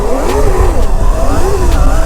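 Loud, continuous whine and roar of a Surron electric motorcycle fitted with a Torp TM40Pro 50 kW motor, its rear wheel spinning on wet ground, with a close, rising and falling motor pitch.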